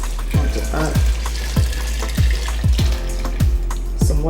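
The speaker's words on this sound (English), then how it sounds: "I'll put some water and add it to it." Water pours steadily into a pot of peanut butter soup, a continuous splashing gurgle with a faint sizzle underneath.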